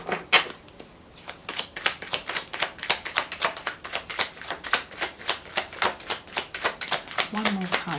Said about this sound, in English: I'm going to pull out a couple of cards and break that down.